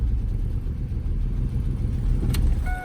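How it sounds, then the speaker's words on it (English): A Chevy Camaro engine roars continuously at close range during a burnout, a loud, dense low rumble that stays steady throughout with no talking. "you just need to make sure it does burnouts"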